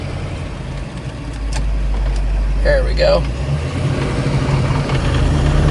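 A 1970 Ford Mustang Mach 1 engine idles low and steady, then rises slightly as the car moves in reverse, with a short spoken remark partway through.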